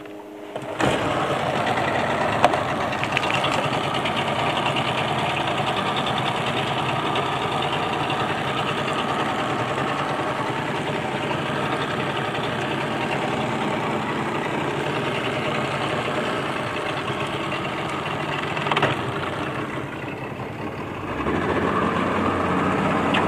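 A Yamaha 30 HP outboard motor runs steadily on a jon boat out on a lake, a loud, continuous engine drone close by with a brief change in pitch near the end and no talk.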